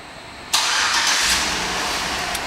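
A 2008 GMC Yukon SLT engine turns over by remote start and settles into a steady idle, the sudden catch followed by a continuous close hum with no talking.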